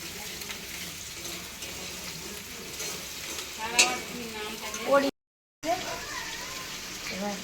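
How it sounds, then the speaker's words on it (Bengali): Onions fry in a pan for a spicy red chicken curry, a steady close sizzle running throughout with occasional stirring, while people talk over it and a brief dropout cuts the sound near the end. "পেঁয়াজটা লাল লাল করে ভাজা হয়ে গেছে"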